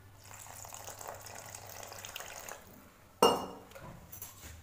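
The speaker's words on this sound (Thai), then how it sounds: "เราก็จะเติมน้ำ" Water is poured into flour for bhature dough, a soft running trickle with a sharp clink of a vessel partway through, close and fairly quiet.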